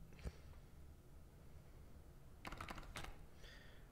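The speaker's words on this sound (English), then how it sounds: "now we're going to press a little uh, squiggly thing on our keyboard" A few keys pressed on a computer keyboard, quiet clicks separated by a long pause and then a couple of quick taps close together, with faint background hum.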